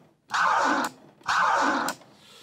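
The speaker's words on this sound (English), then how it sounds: "So the forward cut is where you're releasing a sound, you're opening the crossfader as you release it" Two forward-cut scratches on a CD deck, with the crossfader opened as the platter is released. Each produces a bright, half-second burst of scratchy sound, evenly spaced and close, with no talking.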